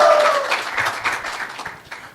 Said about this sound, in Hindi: मोदी जी के लिए ताली बजाइए साथियों